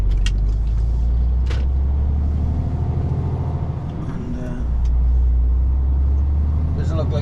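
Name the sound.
haulage truck driving up to the site barriers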